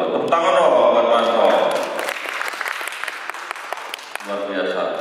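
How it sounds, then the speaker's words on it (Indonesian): Audience applause at the Great Indonesian CEO Award 2023 ceremony, a dense burst of clapping that rises under a speaker's voice, then thins and fades as talking resumes near the end. "Tepuk tangan dong buat Mas."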